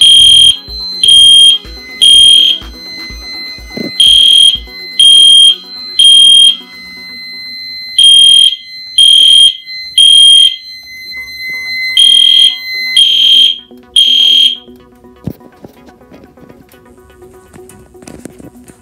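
A Simplex fire alarm system set off from a pull station blares in loud, evenly spaced horn bursts with a continuous high tone. The bursts run in groups with short gaps, then stop, leaving faint clatter behind.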